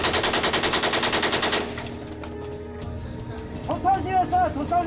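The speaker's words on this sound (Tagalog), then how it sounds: "nagpakawala rin sila ng 180 rounds mula sa kanilang M60 machine gun" Burst of M60 machine gun fire from a South Korean Coast Guard vessel, a rapid loud rattle of rounds lasting under two seconds, then quieter background with voices shouting afterward.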